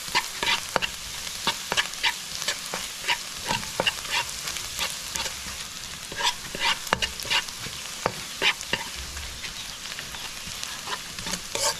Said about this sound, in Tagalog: So, start na tayo mag-gisa guys. Sunayin muna natin ang bawang